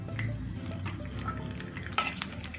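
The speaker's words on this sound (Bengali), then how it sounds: "তেলটা একটু গরম হলে এবার 4টা এলাচ, দারচিনি এবং তেজপাতা দিয়ে দিচ্ছি।" Whole cardamom pods, cinnamon and bay leaves frying in a little hot oil in a pan, a soft steady sizzle with light stirring scrapes and one brief clink of utensil on pan, faint and close.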